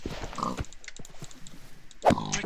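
Pigs grunt in Minecraft, two short, close nasal grunts, one at the start and another near the end, with quieter game sounds in between.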